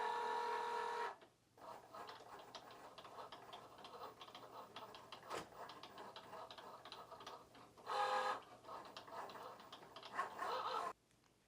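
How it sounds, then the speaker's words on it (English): A Cricut cutting machine cuts out stickers from a mat, its motor whirring with fast, ticking carriage movements and short louder bursts, steady and close in a quiet room. "it's going to start cutting out our stickers"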